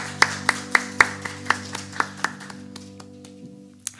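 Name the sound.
applause in a church service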